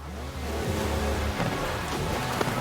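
Rain in the driving game Forza Horizon 4 in Britain: a steady, dense hiss of rainfall mixes with a low engine rumble throughout, fairly loud and continuous, with no talk.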